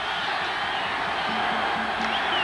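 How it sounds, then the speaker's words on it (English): A football stadium crowd at a Bears versus Redskins NFL game roars steadily in the distance as a continuous wash of noise, holding at an even level without a clear rise. "And I think louder will be the crowd"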